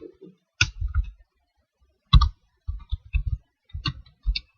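Typing on a computer keyboard comes in quick close bursts of key clicks, several short clusters separated by pauses, clear and alone in an otherwise quiet room.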